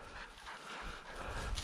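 A hunting bird dog on a ptarmigan and grouse hunt whimpers softly, faint thin whines set against steady outdoor wind noise and rustle.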